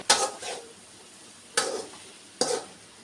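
Masala sautéed with coriander powder in a pan while cauliflower gravy is being cooked. Three distinct scraping stirs land against a quiet background, each with a brief sizzling swish and a short gap between strokes. No voices are heard.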